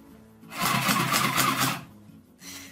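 Hamarat HM 01 handheld sewing machine stitching fabric, a close, loud mechanical whirring burst of about a second and a half, followed by a quieter pause and then a shorter second run.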